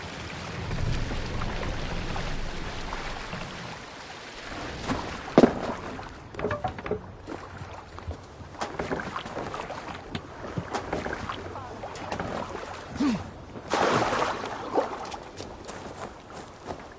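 A sailing ship at sea in the video game Assassin's Creed Valhalla, with continuous rushing water and wind against the hull, swelling and easing in waves, plus creaks and splashes throughout.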